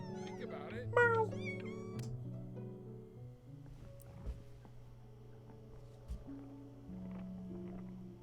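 A pet cat meows in the video game Before Your Eyes, a bright rising call near the start over a steady musical background, with a few faint soft sounds later.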